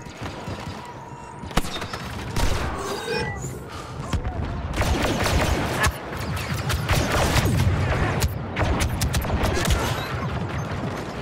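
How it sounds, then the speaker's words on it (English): A grenade explosion and gunfire in the Star Wars Battlefront 2 video game, with a sudden blast followed by sustained rattling bursts of blaster fire and crashes, loud and busy, alongside in-game voice announcements. "Grenade deployed!"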